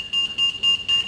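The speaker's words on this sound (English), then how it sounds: "dan gaat het alarm af" A shop's RFID security gate alarm sounds as four steady electronic tones in quick succession, each a short sustained blare separated by brief gaps, loud and close over a faint background hum.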